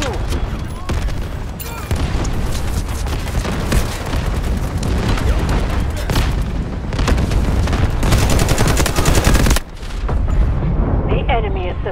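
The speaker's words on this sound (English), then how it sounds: "Incoming artillery." Incoming artillery fire in the PC shooter Delta Force, heard as continuous loud battlefield noise of explosions, booms and machine-gun fire with a brief lull near the end before the din resumes.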